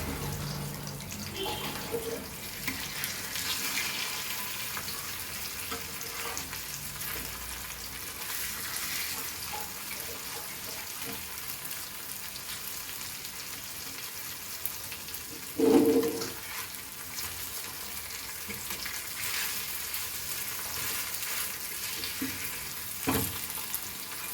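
Goan chonak seabass fish, coated in rava semolina, fries in a pan with a steady, close, high-pitched sizzle across the whole stretch, broken by one brief louder clatter as a piece is turned mid-cook.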